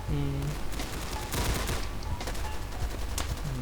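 Rapid gunfire in the video game Insurgency during a co-op match, loud bursts and crackling volleys packed close together, with a brief voice speaking beneath the shooting.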